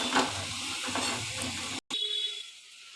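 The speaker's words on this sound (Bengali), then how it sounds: "এইবার মশলাটাকে কষাতে হবে ভালো করে কষিয়ে নিতে হবে" Bengali masala spice paste with Kashmiri chilli powder sautéing in oil for tangra fish curry, a steady close sizzle with stirring scrapes, briefly cut off, then fainter frying.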